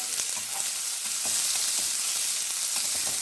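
Onions and six green chilies fry in a pan for a raw banana podimas, giving a steady, dense sizzle with a few faint stirring clicks and no talk.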